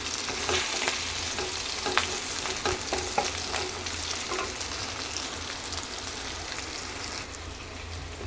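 Capsicum pieces fry in a pan for a masala curry, a steady soft sizzle with light scraping clicks from stirring throughout, quiet and without voices.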